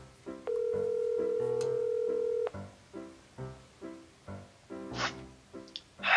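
A cellphone call being placed: a steady tone holds for about two seconds, then a run of evenly spaced short electronic pulses follows as the line rings, ending in a couple of brief, sharper sounds.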